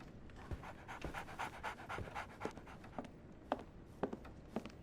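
Quick, steady panting from a dog in the Sherlock Holmes The Awakened video game, close and continuous, with a few sharp clicks and taps scattered through.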